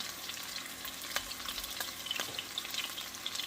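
Lightlife plant-based meat sizzles and fries in a pan while being stirred and mixed, a constant crackling hiss with scraping stir strokes, close and without talk.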